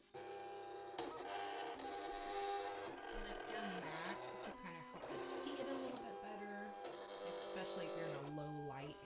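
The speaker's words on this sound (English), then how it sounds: "let the Cameo 4 read the registration marks to begin cutting" A Silhouette Cameo 4 cutting machine cuts a printed sheet, its motors whining loudly and steadily with shifting pitched tones and short pauses as the carriage changes direction.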